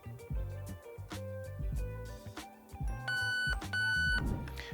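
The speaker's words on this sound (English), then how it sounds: "press and hold your trigger until you hear 2 audible beeps letting you know you've programmed that option" Electronic beeps sound from the Nebula II MOSFET in a Lancer Tactical Gen4 airsoft gun during programming, sharp tones rising clearly over handling noise near the end.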